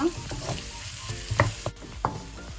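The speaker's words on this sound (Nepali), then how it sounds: "लसुन हालेर एकैछिन भुटेँ" Garlic fries briefly in a pan for Nepali tama aloo bodi, a soft continuous sizzle broken by a few sharp clicks and scrapes of a utensil against the pan.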